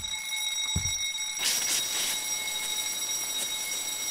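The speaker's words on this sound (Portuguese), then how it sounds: "É, alarme de incêndio" Fire alarm in a video game hotel, a loud continuous electronic ringing with sustained high tones that starts abruptly partway in, after a short quieter stretch with a brief low thump.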